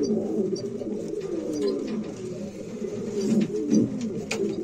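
Pigeons in a breeding loft coo continuously at close range, their low throaty calls overlapping, with a few faint clicks and rustles behind them.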